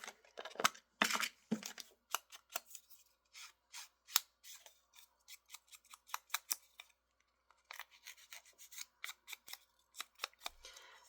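Scissors trim the white paper edges off a steampunk craft piece in a quiet run of close, crisp snips, a brief pause in the middle before the cutting resumes.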